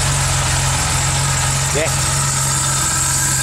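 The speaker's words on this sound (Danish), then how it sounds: "Den går en lille smule ujævnt nu, men det er fordi, at den, hvad hedder det, er helt kold." A cold 1977 Porsche 930 engine idles steadily and slightly unevenly, with a deep, close, constant rumble and a brief word spoken partway through.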